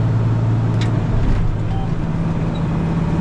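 A tractor stuck in a muddy field holds a loud, steady low engine drone up close, with no clear revving surges and no talk over it.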